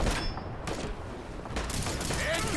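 Shots from the Disintegrator energy weapon in Fallout 4, a few sharp bursts spaced across the moment amid game ambience and a man's speech.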